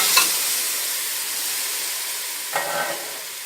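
Lamb meat is added to a pan of spiced sauce and fries with a steady, loud sizzling hiss, broken by two brief scraping stirs near the start and end, with no one talking.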